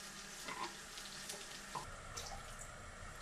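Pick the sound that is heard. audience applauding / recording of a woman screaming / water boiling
water boiling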